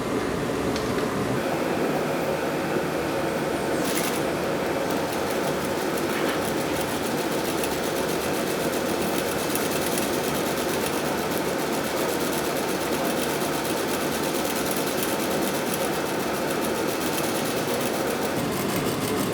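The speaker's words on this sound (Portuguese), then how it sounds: "Eu tô fazendo o pesponto da largura do pé da máquina." Sewing machine topstitching a shirt collar at the width of the presser foot, a steady fast mechanical whirring that runs nearly the whole time, with brief pauses and small clicks, no talking.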